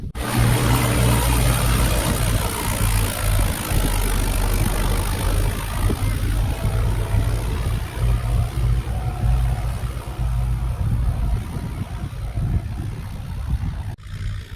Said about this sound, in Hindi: तो भैया अभी आप देख रहे हैं चालू करा दिया है छिड़का और ट्रैक्टर दोनों ही